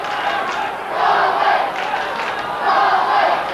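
A large football crowd of about 20,000 roars and cheers in a stadium, a dense continuous wash of voices that swells in two loud surges.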